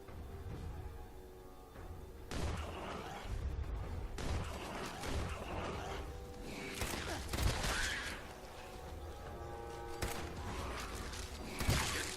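Bandits fight a bloatfly in the video game Fallout 4, with bursts of gunfire in several loud clustered volleys separated by short gaps over a rumbling game background, and no clear talking.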